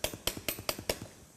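A hammer strikes a worn, old stone carver's chisel against stone: five sharp, evenly spaced metallic blows about a fifth of a second apart, each with a short ringing decay, close and clear with no talk.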